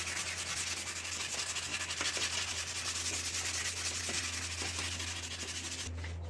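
Sandpaper rubbing quickly over a charred wooden handle of a hand-forged 4 lb steel straight peen hammer, a continuous close scratchy rasp with rhythmic strokes that stops just before the end.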